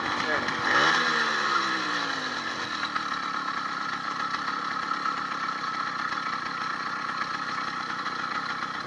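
An 80cc motorized bicycle engine pull-started by the wheel, catching with a brief rising rev and then idling steadily with a buzzing drone, close and loud.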